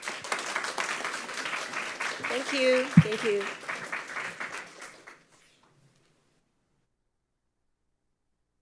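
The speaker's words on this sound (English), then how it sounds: "Let's give our speaker another round of applause." An audience applauds after a talk at a book event, a dense wash of clapping lasting about five seconds, with a brief spoken thanks partway through before it stops into silence.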